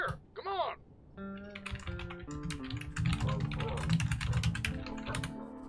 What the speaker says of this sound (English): just typing out some stuff